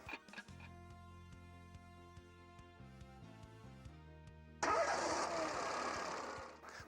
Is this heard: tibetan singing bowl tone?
no